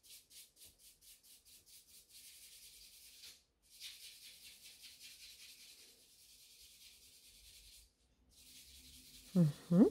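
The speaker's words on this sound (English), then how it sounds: "We can rub this Chameleon pigment over the snail." Chameleon chrome pigment rubbed onto a nail for peacock nail art, heard as soft, rhythmic brushing strokes: a quick run of short rubs, then longer steady scrubbing that pauses twice, with a brief low sound near the end.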